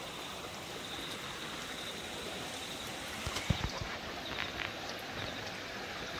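Spring water from a rock flows in a steady, close rushing wash on a farm, with a few brief knocks partway through and no talking.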